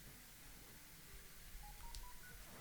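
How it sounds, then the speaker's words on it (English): In Zelda: Link's Awakening DX, the compass gives its secret-detection chime, a short run of rising phone-like beeps heard faintly under a quiet, noisy background. "compass is useful to detect any secrets, as it will give you a tone"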